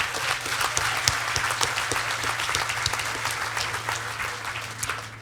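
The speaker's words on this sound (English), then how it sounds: "Let's give another round of applause." Guests at a Greenway breakfast event give a round of applause, an even, sustained patter of many hands clapping at moderate distance, fairly quiet and continuous with no talk over it.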